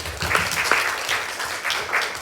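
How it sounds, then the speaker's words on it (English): Brief, fairly quiet clapping from an audience at a jobcentre career discovery open day, a soft patter of many hands with no talk. "let's give CL a round of applause."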